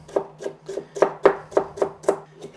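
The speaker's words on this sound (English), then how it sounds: "I'm just going to cut this nice and fine for my stir fry." A knife chops broccoli stems finely on a cutting board in about ten crisp, evenly spaced strokes. The strikes are close and clear in a quiet room.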